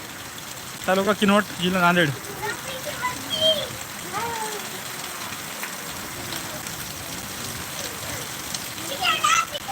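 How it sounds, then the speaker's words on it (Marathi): Heavy rain in Kinwat taluka, Nanded district, a steady, dense hiss throughout while someone talks over it near the start and again briefly at the end. "अर्ध्या तासातून पाऊस चालू आहे"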